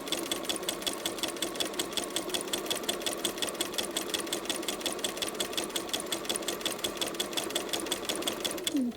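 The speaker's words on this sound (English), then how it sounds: "I'm just going to hold it to keep it from advancing so it stitches on itself" A sewing machine stitches appliqué fabric in a steady, fast mechanical whir of even needle strokes, running close and constant from start to finish before easing off at the very end.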